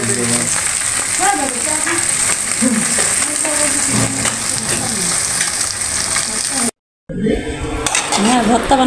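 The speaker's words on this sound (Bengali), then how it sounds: "লাল করে ভাজবে মাছ।" Koi fish frying in oil until browned, a strong crackling sizzle with bursts of spatter, joined by someone talking over it, briefly cutting out before the sizzling returns.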